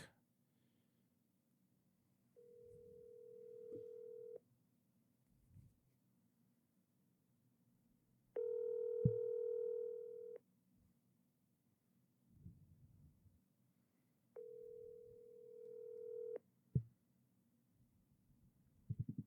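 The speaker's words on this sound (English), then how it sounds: "just gonna call him up real quick" A phone call is dialed and rings unanswered: three long electronic ring tones spaced a few seconds apart over a faint background hum, with brief clicks between them.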